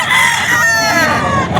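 A Kelso gamecock, a Cardinal-colored rooster at a game fowl sale in Bocaue, gives one loud, close crow that is drawn out and fills the whole stretch, with farmyard noise faintly behind it.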